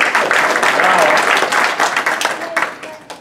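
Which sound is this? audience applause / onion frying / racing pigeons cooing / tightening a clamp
audience applause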